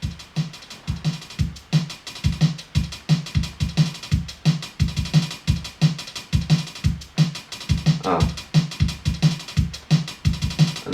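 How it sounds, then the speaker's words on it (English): Layered extra drums for a drum and bass rap beat: a fast, steady pattern of deep kicks, snappy snares and bright hats, loud and close, with a brief swell of noise near the end and no talking. "So we've got some additional drums which sound like this."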